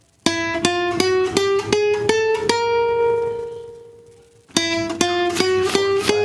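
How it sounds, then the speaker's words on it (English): Seven evenly spaced plucked guitar notes ring out in a steady sequence, each with a bright attack. The last one sustains and fades before the run begins again. "Equidistant notes on the guitar, 7 of them would sound like this."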